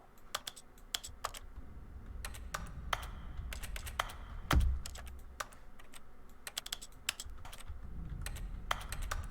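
Rapid clicking from the video game The Stanley Parable Ultra Deluxe, many sharp taps in irregular bursts with one louder thump near the middle, close and clear with no talk.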